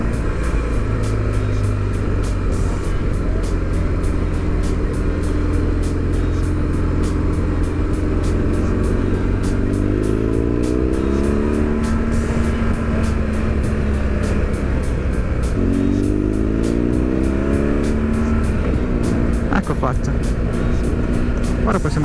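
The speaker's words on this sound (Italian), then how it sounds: "Ora possiamo accelerare un pochettino e goderci qualche curva." A motorcycle climbing a mountain pass near Lake Carezza overtakes cars, its engine loud and steady with rising pitch sweeps as it accelerates through the gears, under constant wind noise.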